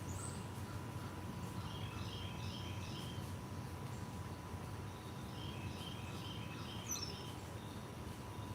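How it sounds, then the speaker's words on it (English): Outdoors on a Sunday morning, a bird repeats short chirping calls in small bursts, faint and distant over a steady hum of background noise, with no talking. "Bird up there."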